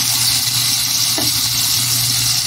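Food sautéing in a hot pan, a continuous close sizzle with a brief scrape of a utensil partway through, steady and fairly loud with no talking.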